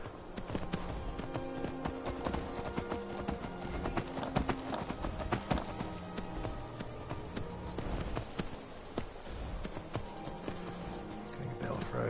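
Horse hooves clip-clop steadily in Skyrim VR as the horse moves off-road, with a continuous rhythmic beat and a buzzing, insect-like ambience and music-like tones in the background.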